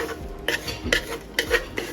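Grated coconut roasting in a pan for koottukari brings a short run of spatula scrapes and metal clinks on the pan, close and fairly soft, spaced about every half second.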